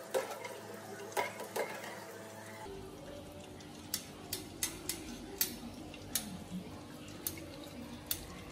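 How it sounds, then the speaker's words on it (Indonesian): Katokkon chilies, seeds removed, stir-fried in a pan, with repeated sharp scraping and clinking of a utensil against the pan over a steady low background, fairly close. "lalu masukkan 25 buah lombok katokon yang telah dibuang bijinya. Tumis hingga matang."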